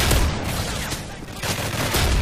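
Shotgun blasts in the video game Modern Warfare 3 Resistance survival mode, a loud booming shot at the start followed by further dense gunfire and heavy low rumble across the moment, with no talking.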